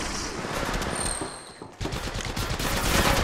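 Rapid automatic gunfire in the battle royale game Apex Legends Mobile crackles in dense bursts, pausing briefly mid-clip before resuming, loud and close, with no talk.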